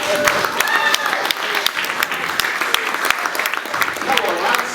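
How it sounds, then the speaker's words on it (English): An audience at a celebration event applauds and cheers people on as they walk to the end of a carpet, with loud continuous clapping and crowd noise throughout and voices mixed in. "Cheer them along as they go there."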